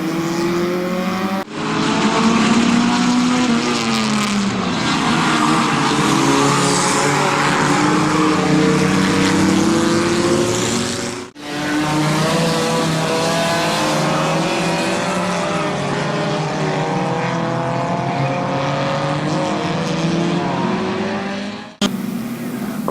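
Race cars at Barberton Raceway Park roar as a pack on a short oval, loud engines rising and falling in pitch as they go through the turns, with two brief drops in the sound.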